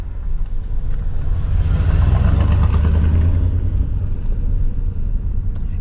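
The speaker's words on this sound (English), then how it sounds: "Got a truck coming." A truck rolls past on a campground loop road, its heavy low engine rumble swelling close and loud for a few seconds before easing slightly as it moves on, with no voices over it.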